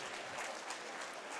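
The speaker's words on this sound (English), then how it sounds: "please join me in giving them a resounding round of applause" Steady, dense applause from an audience at a university management conference in Bangalore, filling the whole moment at a constant, moderate level with no clear pauses.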